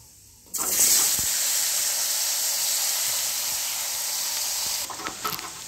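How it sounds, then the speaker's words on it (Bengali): Potatoes hit hot oil seasoned with turmeric and salt, a sudden loud hissing sizzle that holds steady close up for several seconds before easing into quieter crackles and clatter. "তেলের মধ্যে দিয়ে দেবো একটু হলুদ দিয়ে এবার আমি আলুটা ভেজে নেব"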